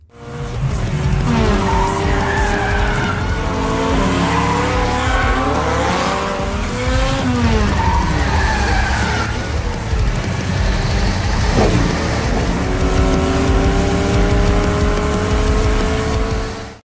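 Race cars launching in a film street race, engines revving and sweeping up and down in pitch with screeching tire squeal, loud and continuous for the whole stretch with no talking.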